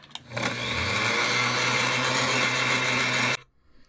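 An Innova sewing machine bobbin winder spins up and winds a bobbin with a steady mechanical whir. It runs close and even for about three seconds, then stops abruptly.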